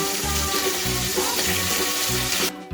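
Foraged seafood frying in butter, a loud continuous sizzle and crackle heard close, with low bubbling beneath it, cutting off abruptly near the end.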